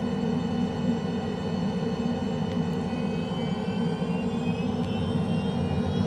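Steady, close engine drone and rumble of a small airplane cruising along the Potomac River past DCA Airport, a continuous loud whir with no voices.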